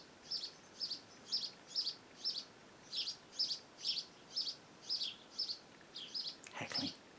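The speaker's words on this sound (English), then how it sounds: "I'm distracted by all the birds" Small birds chirp outdoors in a steady series of about a dozen evenly spaced, bright tweets, fairly faint and alone with no talking, and a brief rustling burst comes near the end.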